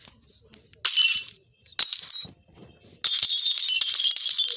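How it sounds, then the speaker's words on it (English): Glass shatters in an antistress video game, heard as three bright, crackling bursts, the last one longer, separated by quiet gaps with faint background noise and no talk. "Landed on this glass."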